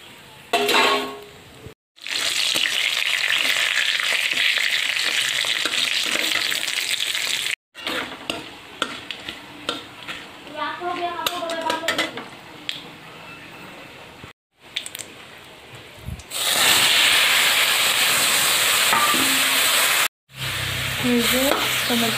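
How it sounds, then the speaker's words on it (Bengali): Dry red chillies and panch phoron five-spice sizzle and crackle loudly in hot oil for a tomato sour dish, a close, continuous frying hiss broken by brief pauses and occasional stirring. "এখানে শুকনো মরিচ দিচ্ছি"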